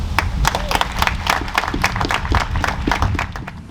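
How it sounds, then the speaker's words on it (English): A round of applause from a crowd at an outdoor Veterans Day ceremony, brisk overlapping handclaps at close to moderate distance, steady throughout with no speech. "I request that we all give a deserving round of applause for Bill."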